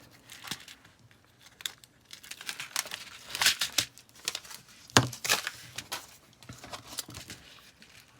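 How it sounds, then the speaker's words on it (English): A plastic or paper layer is peeled back by hand, giving close, irregular crinkling and tearing rustles with a few sharper crackles, quiet and alone. "Now let's peel this back."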